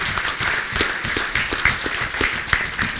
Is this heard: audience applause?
yes